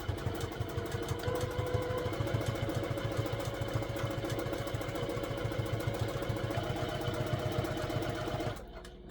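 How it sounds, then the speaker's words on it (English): A Juki TL 2000 Qi sewing machine stitches down a narrow half-inch fabric tube filled with batting, its needle chattering in a fast, steady mechanical rhythm that runs continuously and close before stopping abruptly near the end. "I'm using my Juki TL 2000 QI to do this with"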